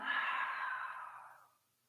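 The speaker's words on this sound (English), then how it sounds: "Exhale out the mouth." A single long exhale out through the mouth during Kundalini yoga breathing, soft and close, tapering away to silence.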